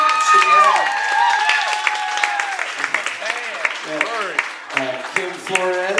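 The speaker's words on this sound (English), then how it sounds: "Yeah, you can clap. Come on, give it up." A crowd claps and cheers while voices rise over it, with excited whoops and chatter in the mix.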